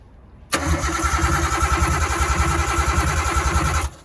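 A big-turbo Nissan RB25 engine in a drift car cranks on a wire run to the battery with the throttle open: a loud, steady, rapid churning rhythm that starts abruptly and runs for over three seconds before cutting off.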